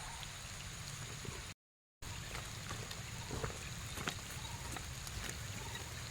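Rain falls at a fishing spot by the water, a steady dense patter of drops with scattered louder hits, continuous apart from one brief cut-out in the middle.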